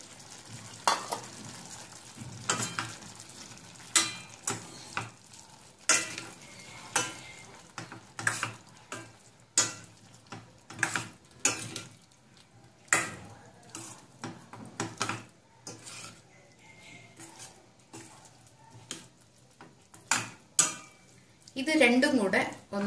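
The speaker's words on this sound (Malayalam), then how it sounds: "ഓനിയൻ പകുതി വെന്തിട്ടുണ്ട്, ഇതിലേക്ക് നമ്മൾ കട്ട് ചെയ്ത് വെച്ച പൊട്ടറ്റോ കൂടെ ഇട്ട് കൊടുക്കാം." Cut potatoes are tossed into half-cooked onions frying in a pan, making a soft sizzle with repeated scraping and clinking stirring strokes against the pan, fairly quiet and close.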